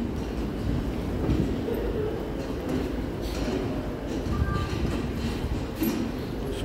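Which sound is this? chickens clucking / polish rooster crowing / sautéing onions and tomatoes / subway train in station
subway train in station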